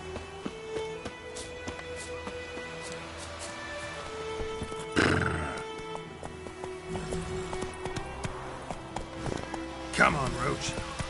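The horse Roach in The Witcher 3, galloping with rhythmic hoofbeats and letting out a loud whinny midway and another near the end, while someone speaks over it.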